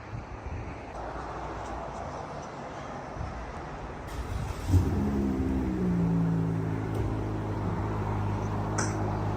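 A V6 car fitted with 5-inch exhaust tips idles with a low rumble, then its engine turns over and settles into a steady, droning idle with a deep tonal hum from the exhaust.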